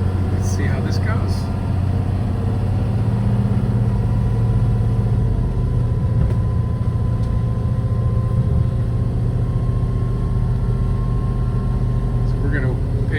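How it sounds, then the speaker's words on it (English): A car engine running steadily in low gear on a drive through Black Rock State Park in northern Georgia, a constant loud low drone with someone talking over it. "So we're going to pay attention to our RPM and not overspeed the engine."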